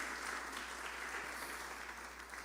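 Church congregation applauding the Lord during a sermon, a steady, even wash of many hands clapping throughout, fairly distant and faint, with no speech over it.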